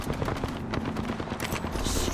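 Rapid automatic gunfire in the video game Apex Legends, a dense burst of close shots with scattered impacts, loud and continuous for about two seconds.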